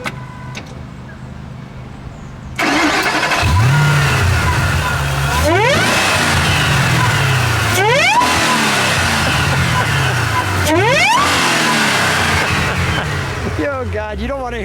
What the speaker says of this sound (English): we will give it a little bit of a rev because we want to hear that Kenny Bell supercharger